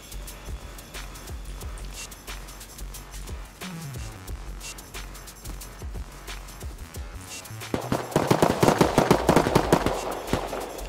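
Gunfire in a survival video game, scattered distant shots early on, then a louder burst of rapid automatic fire building toward the end amid ambient game noise.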